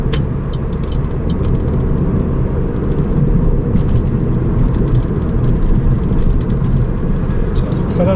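A manual transmission car drives on in second gear after a smooth start, its engine and road noise a steady, fairly loud drone, with a voice talking over it.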